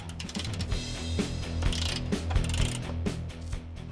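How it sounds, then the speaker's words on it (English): Ratchet wrench clicking steadily as control arm bolts are loosened on a Jeep Wrangler JL Sahara Unlimited during a spacer lift, rapid close pawl clicks in bursts with a low background hum. "So it's time to start loosening those bolts."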